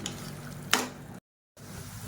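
Vegetables and masala with a little turmeric sautéing in oil in a pan for biryani, a steady close sizzle with a brief louder scrape of stirring, then a moment of silence before the frying resumes.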